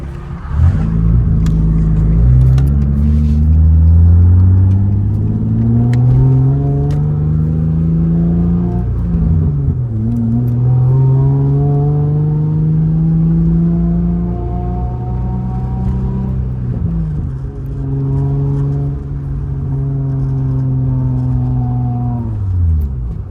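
Engine of a manual-transmission car while driving, loud and close, rising in pitch through each gear then dropping at the shifts, repeating across several accelerations with steady road noise underneath.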